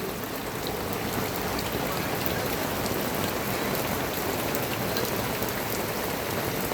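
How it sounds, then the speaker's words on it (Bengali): Heavy rain pours steadily onto a flooded street in Al Buraimi, Oman, a dense, even hiss of drops striking standing water that stays loud and unbroken throughout. "অনেক বৃষ্টি হইতেছে"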